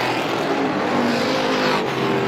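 Stock cars race side by side on the Star Speedway oval, a dense sustained engine roar from several cars close by, with a steady rumbling drone and a brief dip near the end.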